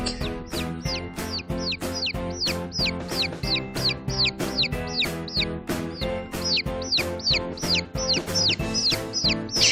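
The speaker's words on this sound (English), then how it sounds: "chick" A chick cheeps steadily, its shrill, rapid chirps repeating evenly and close by for several seconds.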